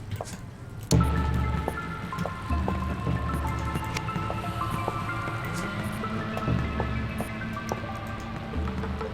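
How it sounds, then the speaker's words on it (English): Water running through pipes in the video game A Wolf in Autumn, a continuous trickling, dripping flow with scattered drips and a low rumbling hum, no voices. "Now it says water's passing through"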